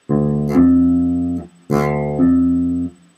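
Two strummed guitar chords, each ringing out and sustaining, with a second strum layered partway through each, played alone without talk.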